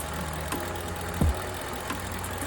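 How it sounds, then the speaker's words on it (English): A Ford F-150 with a 5.0 engine idles with a cylinder misfire, a steady low rumble broken by an uneven thump partway through, heard close and alone. "But it's misfiring right now"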